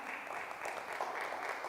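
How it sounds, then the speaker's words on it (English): A school oratorical competition audience claps for the winners, a brief steady patter of applause heard from a distance and fairly faint. "Give them a hand clap."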